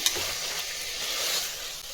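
Tomatoes and green chillies frying in a pan for chicken biryani give a steady close sizzle with light stirring scrapes, continuous for about two seconds with no talking.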